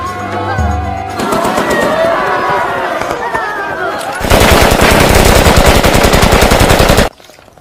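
Automatic gunfire erupts in a film battle scene, rapid bursts rising to a dense, loud continuous rattle for several seconds before cutting off abruptly, with voices and commotion underneath.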